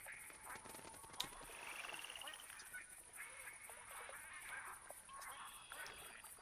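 Gadwall ducks calling in a video game, a steady chorus of overlapping quacks and honks from several birds, moderately loud over constant ambient wildlife noise.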